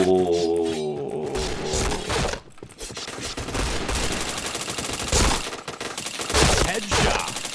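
Video game gunfire, including a headshot, comes as loud rapid bursts and volleys of shots with short pauses between them and a sharp crack near the middle, with no clear talk over it.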